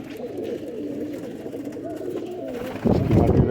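Black-faced Ferozpuri pigeons cooing in a soft, continuous low warble close by, with a louder rustling burst near the end and a voice faintly present.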